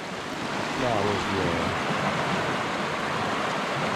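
A river flows behind a house in the countryside of St. Thomas, Jamaica, heard as a loud, steady broadband wash of rushing water with a voice briefly under it near the start.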